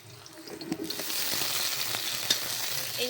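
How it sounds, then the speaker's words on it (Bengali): Chopped onions fry in hot oil in a pan, a steady loud sizzling hiss that swells after a brief quieter start and continues without speech. "পেঁয়াজ কুচিরা একটু ভেজে নিচ্ছি"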